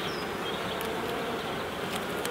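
A small honeybee colony hums inside a nucleus box, a constant close buzzing drone with a few brief higher whines passing over it.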